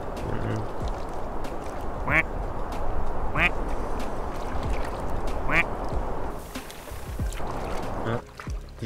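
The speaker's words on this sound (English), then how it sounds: "duck chilling all the way over here." A duck in a duck video game quacks three times across a river scene, the calls spaced a second or two apart over a steady background wash. Voices talk faintly alongside.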